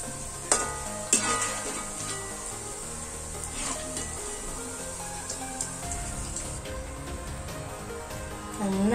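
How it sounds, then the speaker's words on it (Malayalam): Beef chilli pieces deep frying in hot oil, a continuous bubbling sizzle with a few clattering stirs and scoops against the pan. "നന്നായിട്ടൊന്ന് എണ്ണയിലിട്ട് മൊരിച്ച് ഫ്രൈ ചെയ്തെടുക്കാം"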